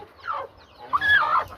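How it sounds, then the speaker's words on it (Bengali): A domestic hen with freshly hatched chicks clucks close by. There are two short bursts, the second longer and more insistent, with no voices. "দেখেন আমার মুরগি"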